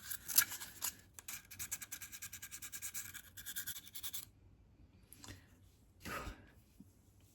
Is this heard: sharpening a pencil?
yes